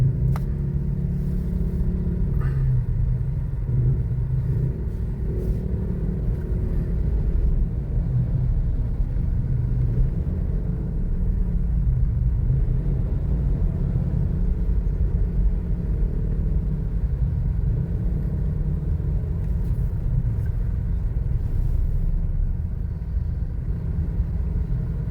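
Low road traffic rumble fills a busy avenue near subway station construction at the Valenzuela, Quezon City and Caloocan boundary, a steady engine drone throughout with no voices.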